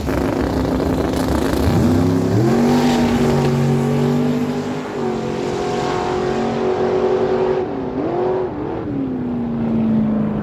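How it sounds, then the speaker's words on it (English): At a drag strip, a twin-turbo 6-litre 1978 Chevy Camaro and a 565 big-block Chevy dragster roar loudly with a sustained engine drone, pitch rising in stepped surges as they accelerate, then dipping and climbing again near the end. "ogan bringing in the left side of the track, 78 Chevy Camaro, 6-liter with the twin turbos, 520 dial on the right side"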